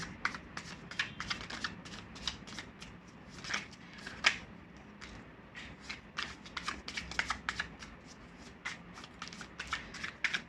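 Tarot cards are shuffled by hand in quick riffling bursts, dense crisp flutters and snaps repeating close and clear for about ten seconds, with no speech over them.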